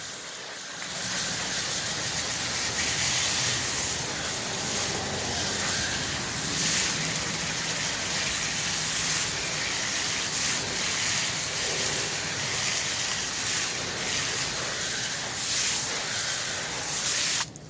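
A water spray rinses wheel cleaner off a car wheel, a loud, continuous hissing rush that runs steadily for the whole stretch without talk.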